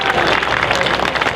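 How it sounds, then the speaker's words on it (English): Audience applause at a cosplay contest during the Orlando Japan Festival 2021, a dense, steady wash of many hands clapping with a bit of crowd noise throughout the short burst. "One more time, give her a round of applause"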